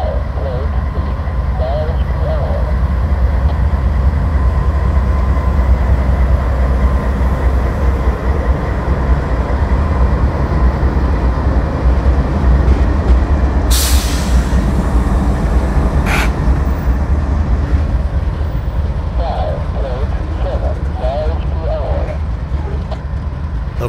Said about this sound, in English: we went up the road to the CSX mainline where we found D720 pulling cars down the scale track